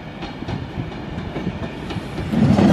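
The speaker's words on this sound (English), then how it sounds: "now approaching is the class 390 doing a service from Liverpool Lime Street to London Euston" A Class 390 electric train approaching Crewe station on a Liverpool Lime Street to London Euston service, a close steady rumble with rhythmic wheel clatter that swells louder toward the end.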